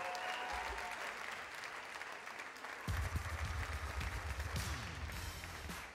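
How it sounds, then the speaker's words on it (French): An audience applauds Gad Elmaleh, with steady dense clapping throughout that swells louder and fuller halfway through. "On applaudit bien fort Gad Elmaleh."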